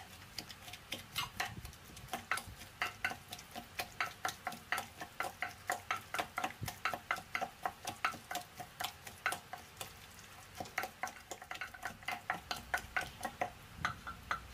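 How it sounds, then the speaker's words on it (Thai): A softened, cooked eggplant mixture is pounded in a mortar for an Isan-style Thai eggplant soup, producing a long run of steady, evenly spaced dull thuds with a faint moist squish. "จากนั้นก็ตำให้ส่วนผสมเข้ากันครับ"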